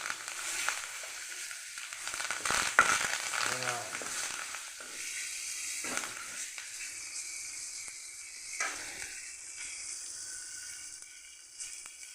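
Cumin seeds and curry leaves sizzling in hot oil for a cucumber and dried fish curry, a steady faint crackle with occasional louder spits and stirring, close by.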